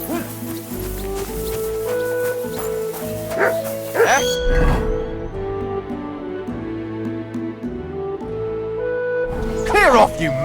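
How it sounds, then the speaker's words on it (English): Dog barking and yipping in Kingdom Come: Deliverance 2, several close, loud barks and whines mixed with a voice shouting and talking over game music. "Clear off, you mutt! Call off that dog"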